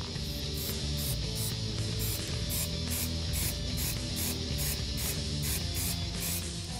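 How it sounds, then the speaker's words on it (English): Weld-through primer hisses steadily from a spray can onto the floor area of a 1983-1993 Mustang during a floor cross brace installation, in a series of close, even bursts. "I'm going to spray it before we put it on."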